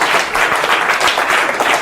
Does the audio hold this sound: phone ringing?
no